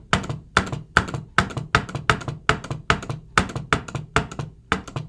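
Accessibility switch on a Mac pressed repeatedly, giving about a dozen sharp, evenly spaced clicks close up, each with a short thunk, alone with no talk.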